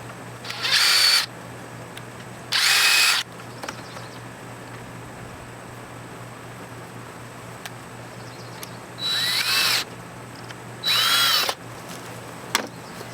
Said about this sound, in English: So I'm going to drill 2 pilot holes.